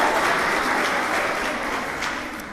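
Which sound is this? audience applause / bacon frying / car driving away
audience applause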